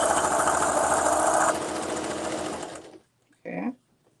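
A sewing machine stitches a zipper tote bag in a rapid, steady mechanical whir that runs loud for about three seconds and then stops, followed by a short spoken remark.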